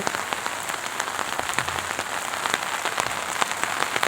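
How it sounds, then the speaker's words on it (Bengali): Heavy rain pours down over Hajiganj bazaar in Faridpur, a dense, steady patter of drops hitting surfaces close by, with no voices. "প্রচুর বৃষ্টি হচ্ছে"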